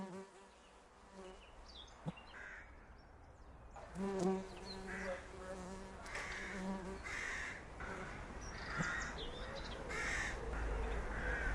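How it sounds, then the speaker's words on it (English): Bees buzz steadily close by around catkins beside watercress beds, with crows cawing in the background and faint outdoor ambience. "the first bees of the year start looking further afield, such as these catkins"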